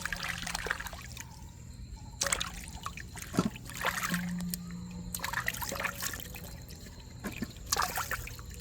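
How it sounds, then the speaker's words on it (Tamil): Water sloshes and trickles as tapioca root is rinsed of soil by hand, with intermittent splashes and dribbles close by. "நான் தண்ணி ஊற்றி 2வது தரம் ஒருக்கா திரும்ப கழுவ போகிறோம்."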